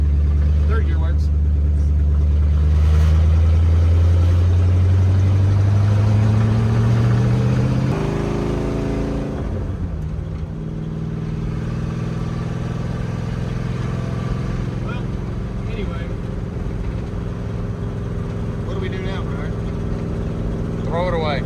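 A Dodge Dart V8 with a four-speed gearbox runs loud and close, its engine drone rising in pitch under acceleration, then settling to a steady rumble as it moves through gears; a voice is heard over it.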